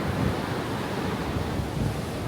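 Ocean waves breaking on Canggu Beach in Bali, a continuous roar of surf mixed with wind buffeting the microphone, with no voices.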